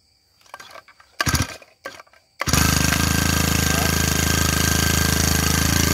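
Japanese four-stroke grass cutter engine starting after a few knocks and handling sounds, then running loud and steady at a fast, even buzz close to the recording.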